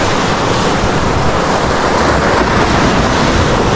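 Sea waves roll in against the shore in a loud, unbroken surf roar, with gusty wind buffeting the microphone and no voices.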